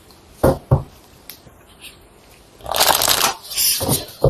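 Tarot cards being shuffled by hand, with a couple of sharp snaps at first and then a dense, riffling burst of card noise, close and fairly loud.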